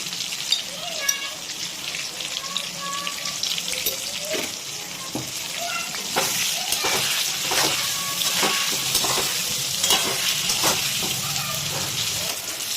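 Eggplant pieces frying in hot oil with salt and turmeric for a pabda fish curry, a loud continuous crackling sizzle with occasional spatula clinks, steady throughout.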